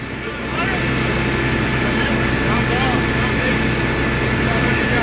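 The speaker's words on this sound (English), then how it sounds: "The faster the engine goes, the faster the pumps pump." Fire engine at a brush fire on Highway 138 near Crestline, its engine driving the water pumps, making a loud, steady mechanical drone that holds without a break throughout.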